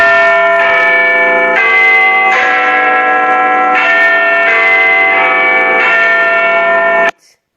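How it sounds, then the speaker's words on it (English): Clock bell ringing loud and close, a sustained chime of several long tolling strokes with ringing overtones that stops abruptly at the end. "which one was the sound of the clock bell?"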